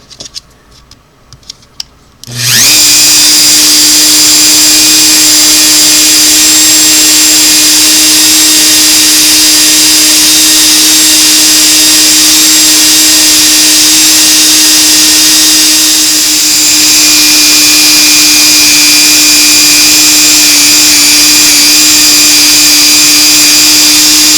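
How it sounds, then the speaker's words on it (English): A Dremel rotary tool fitted with a small wire brush polishing Singer sewing machine foot pedal parts, a loud, steady high-pitched whine that starts abruptly after a few quiet seconds and runs continuously, close up. "I just use a Dremel, so watch your ears here. Dremel with a little wire brush."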